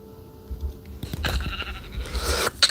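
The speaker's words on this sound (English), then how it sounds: "Oh, sheep." Sheep in the Minecraft video game bleat a few times in quick succession amid game sounds, preceded by a low hum and followed by a short sharp click.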